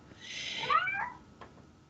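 A house cat gives a single drawn-out meow close by, rising then falling, followed by a faint short chirp in an otherwise quiet room.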